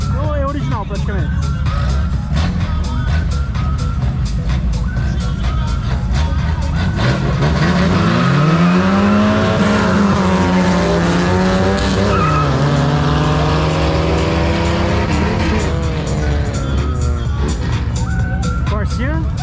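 Drag-racing cars with a single Weber carburetor and open exhaust roar loudly through a short strip, engine notes rising and falling in a sustained rev sweep with tire skid noise, while people talk continuously over the din.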